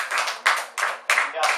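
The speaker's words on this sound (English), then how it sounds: "Can we give Gabby a big round of applause," A classroom group gives a short round of applause, heard as four quick bursts of clapping that each swell and fade in a choppy rhythm.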